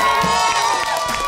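A game-show audience of children and parents at a grand finale cheers and shouts loudly, a dense, close roar of excited voices with whoops rising and falling throughout.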